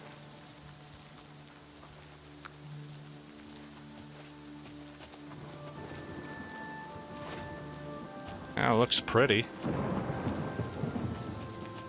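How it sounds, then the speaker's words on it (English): Steady rain hisses under a rolling thunderstorm in the game Oblivion Remastered, with soft background music and a loud crack of thunder late on; someone speaks briefly. "Kind of an epic lightning storm going on out there."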